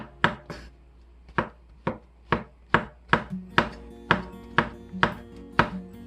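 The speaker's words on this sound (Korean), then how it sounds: "위에 채도 버리지 마시고 이렇게 얇게 썰어주세요" A knife slices a king oyster mushroom thinly on a cutting board, about a dozen crisp, evenly spaced chops ringing out close and clear, the pace quickening slightly.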